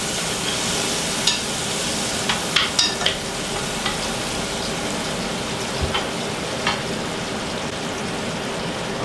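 Food deep frying in a pan sizzles in a dense, continuous hiss, with a few sharper pops and stirring clatters scattered throughout.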